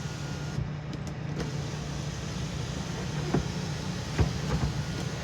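The electric sunroof of a 2017 Honda WR-V VX petrol car runs open and shut with a smooth, steady motor whir and a few soft clicks, heard alone at close range.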